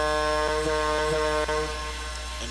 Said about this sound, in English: And that's the secondary air horn that the Niagara is equipped with